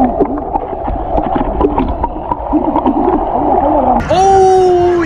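Ocean wave splashing and washing over a person at a calm beach in Tongoy, Chile, with churning water and splatter under excited voices, then a loud shout or squeal at the end.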